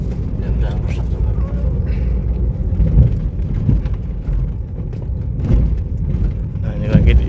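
A Honda Freed with worn shock absorbers and suspension rumbles along a rough, broken road, giving a loud, steady low-pitched drone from inside the cabin with occasional bumps and rattles.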